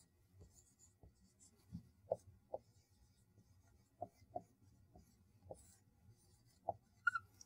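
Chalk or marker tapping and scratching on a board while equations are written, a series of short, quiet strokes and taps at irregular intervals, with no talk.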